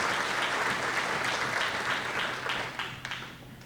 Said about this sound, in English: I'd like to have you join me in a round of applause for our ESU chef and catering staff